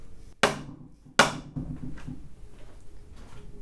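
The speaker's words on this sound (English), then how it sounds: "So we'll just give it a couple good whacks to set it in the backwards position" Two sharp hammer whacks land about a second apart on an LS engine crankshaft to set its thrust position, each leaving a short ringing decay, followed by softer metallic handling noises in a quiet shop.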